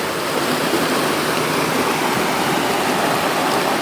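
Water rushes steadily through a river channel, a loud continuous broadband roar close by with no pauses or voices.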